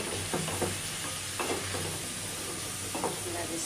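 Fish frying in a pan for a Bengali chorchori, a steady close sizzle with a few brief stirring scrapes and clinks over it.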